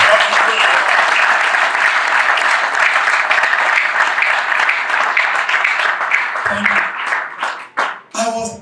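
A seminar audience gives sustained, loud applause, a thick wash of clapping that holds for several seconds before thinning out as a speaker's voice breaks in near the end.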